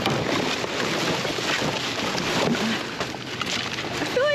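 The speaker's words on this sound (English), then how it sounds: "Oh, it's windy." Wind blows steadily across an outdoor retail-shop dumpster area, a broad continuous rush with microphone buffeting that stays loud throughout, with faint chirps near the end.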